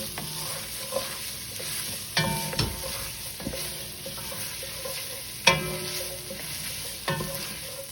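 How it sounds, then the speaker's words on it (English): Tomato sauce stirred into frying ground beef and sausage, a steady sizzle with repeated spoon scrapes and knocks against the pan, close and clear with no talking. "Now we're going to stir this into the meat."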